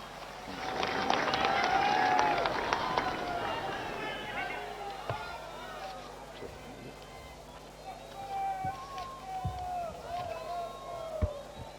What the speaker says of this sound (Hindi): तालियों के साथ हम स्वागत करेंगे माननीय मुख्यमंत्री उत्तराखंड।